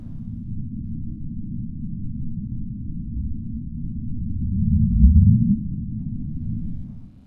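The Bloop, an extremely loud underwater sound picked up by ocean sensors thousands of kilometres apart: a deep, muffled rumble that swells into a rising low sweep midway before falling back, with nothing else heard.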